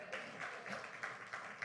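A church congregation claps in scattered, moderate applause, a soft flurry of hands heard at a distance and fairly faint, without clear speech over it.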